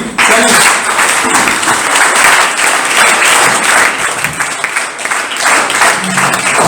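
An audience applauds at a creative evening honouring writer Murman Jinoria at the Writers' House in Tbilisi, loud sustained clapping filling the room for several seconds without letting up.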